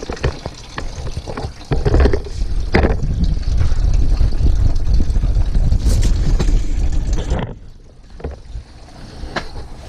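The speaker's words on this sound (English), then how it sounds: "This will take a couple of minutes for all the coolant to drain out." Coolant running and splashing out of the radiator of a 2000 Ford F-250, a steady liquid pour. It swells loudly for several seconds, then drops away before a softer trickle returns.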